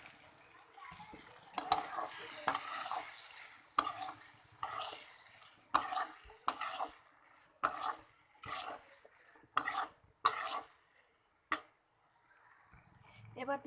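Boiled bottle gourd tipped into a pan and stirred, with repeated scraping and clattering strokes of a spatula against the pan, a light sizzle underneath, and brief pauses between bursts.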